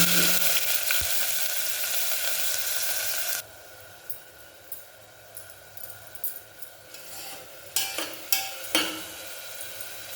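In a pan for mutton keema curry, oil sizzles loudly with bay leaves and curry leaves, then the sound drops sharply as finely chopped onion goes in, followed by quieter sizzling with scattered scrapes and clinks of stirring.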